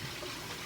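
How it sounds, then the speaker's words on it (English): Water runs steadily from a kitchen tap while pork chops are being prepared, a brief, even rushing hiss with no talk over it. "Turn the water off."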